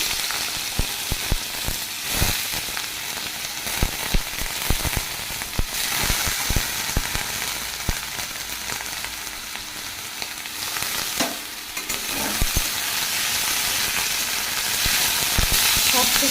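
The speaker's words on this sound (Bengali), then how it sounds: "আমি এখন ভাজা করছি আলু" Potatoes fry steadily in a pan, a dense, continuous sizzle with scattered crackles and pops running throughout, loud and close with no talking.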